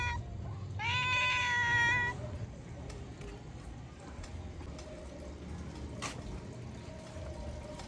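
A cat with a wound on its nape meows once, a clear drawn-out cry of about a second, close and moderately loud, followed by quiet background with faint drips.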